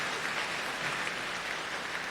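Steady applause from an audience in a church fills the space, a dense, even patter of many hands clapping continuously without pause.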